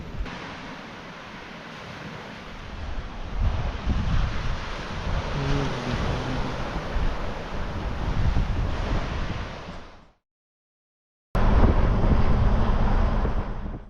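Waves and wind on a Fleurieu Peninsula beach in South Australia at sunset: loud, steady surf wash with heavy wind buffeting the microphone, briefly cut to silence near the end before the roar resumes.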